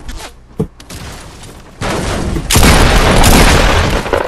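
Loud shotgun blasts and heavy gunfire in a multiplayer shooter video game, with a sharp early shot, then a dense, sustained roar of shooting and explosions filling the second half.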